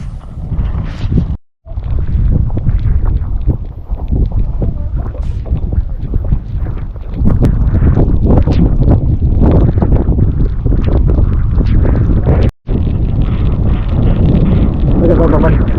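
Strong wind buffets the microphone in a continuous heavy roar on the road from Kawah Ijen while touring on a classic Vespa, loud and close throughout, with only brief dropouts.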